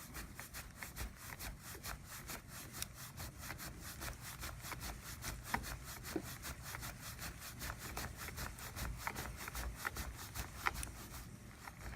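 A screw is tightened into the wooden axle of a small model car, a steady, rapid creaking and grinding of wood that repeats in fine ridges throughout, close and quiet, without talking.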